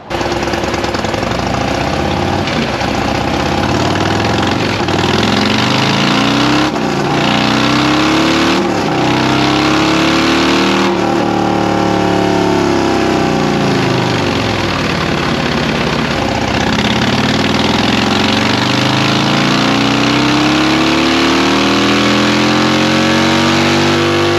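A turbocharged car engine with large fuel injectors and a 131 kit revs hard on a dyno, loud and continuous, its pitch sweeping up and down through repeated pulls with no talk over it.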